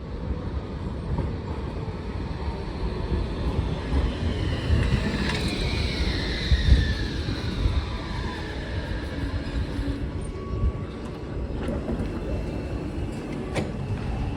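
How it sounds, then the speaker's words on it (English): A Zagreb Line 14 tram rumbles steadily at a city-centre stop, a continuous low mechanical roar with faint rising whines and squeals drifting over it, fairly loud and unbroken throughout. "I wait for Line 14 tram."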